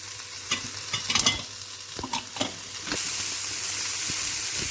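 Chopped capsicum and other vegetables sizzle lightly in a hot pan while a utensil stirs and scrapes with a few soft knocks, and the steady frying hiss grows fuller toward the end.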